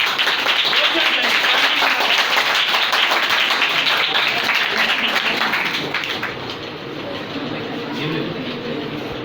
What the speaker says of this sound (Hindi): एक बार फिर से तालियां दी